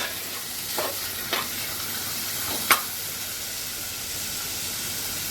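Chana dal sautéing and being stirred in a hot pan: a steady close sizzle with a few sharp scraping strokes of the spoon, no voices.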